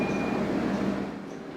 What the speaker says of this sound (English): I have to take the train every day to get to my classes and stuff.